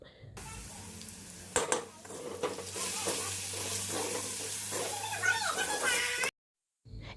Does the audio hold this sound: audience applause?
no